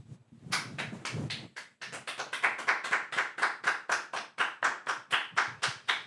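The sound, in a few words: clapping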